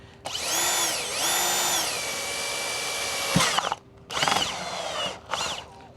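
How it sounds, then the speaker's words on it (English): A power drill with a step drill bit whines in several bursts while drilling a hole in a Chevrolet Camaro, pitch rising and falling as the bit bites, with a sharp crack midway and brief pauses between runs. "drilling a hole with a step drill bit through here to pass the grommet through"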